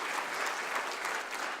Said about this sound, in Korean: 우리 교사분들을 위해서 우리 성도님들의 뜨거운 박수 한번 부탁드리겠습니다